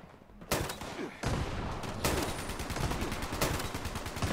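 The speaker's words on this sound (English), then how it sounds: "Is he shooting at somebody?" Bursts of rapid automatic gunfire in the online shooter Fallout 76, Nuclear Winter mode, loud and continuous with sharp repeated cracks over several seconds, no talk.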